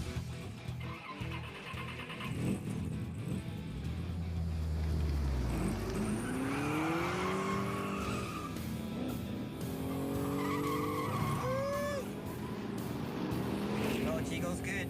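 A restored car out on a test drive, engine running steadily with tires squealing and skidding as it moves and brakes, loud and continuous throughout.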